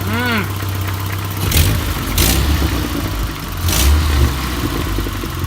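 A car engine idles with a loose belt being thrown, a steady low rumble with a few louder broadband swells of flapping and whirring, heard up close.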